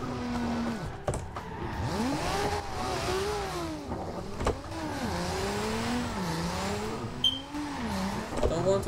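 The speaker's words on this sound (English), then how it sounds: "See, a lot of turbo spool, but it's not going nowhere." A drifting car in Forza Horizon 2 drones with a steady engine note that rises and falls as the turbo spools, its pitch sweeping repeatedly amid tire noise, close and continuous with no talking.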